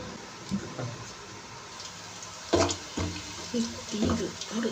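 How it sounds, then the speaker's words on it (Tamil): Soaked rice is rinsed in water for chicken biryani: soft splashes and sloshing come in a few short bursts, close by, with a voice talking over the washing. "நம்ம அரிசியை நல்லா ஊற வச்சு நல்லா லைட்டாக கழுவிக்கங்க"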